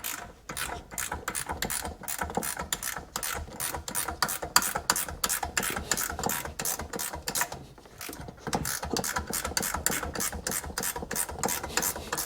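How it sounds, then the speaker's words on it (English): A ratcheting wrench turns a 17 mm nut on a 2001 Sea-Doo RXDI watercraft, giving rapid repeated clicking bursts close up, with one short pause before the ratcheting resumes. "Gotta love ratcheting wrenches."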